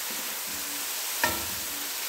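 Grated bottle gourd sizzles steadily in ghee over medium heat while being roasted for halwa, a soft continuous frying hiss with one sharp clink of a spoon against the pan midway.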